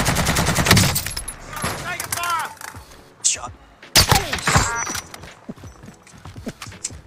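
Gunfire in the Warzone video game, a rapid burst of automatic shots at the start followed by scattered louder bangs, with a voice talking over parts of it.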